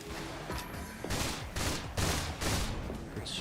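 Rapid strafing gunfire from the video game Freedom Wars, several loud bursts of fire repeating in quick succession over a continuous rumbling game soundscape.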